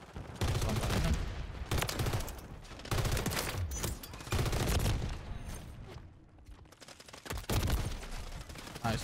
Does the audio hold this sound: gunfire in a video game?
yes